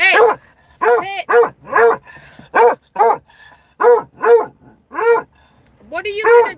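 A dog barks again and again in sharp, loud, close bursts spaced about half a second to a second apart, with a higher, whinier bark near the end.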